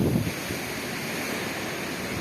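Strong wind gusting over a full dam reservoir in the Avalanche and Emerald area during heavy rain, a steady roaring rush of wind and choppy water with buffeting on the microphone, loudest at the very start and constant afterward.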